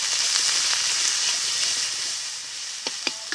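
Ground turmeric, cumin and chili powder with salt fry in a hot pan, a continuous sizzling hiss that thins out toward the end, broken by a few sharp clicks of stirring.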